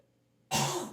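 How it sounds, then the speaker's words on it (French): A single harsh cough or throat clear bursts in suddenly after near silence, close and loud, then trails off briefly. "si tu tousses trop, je pourrais pas"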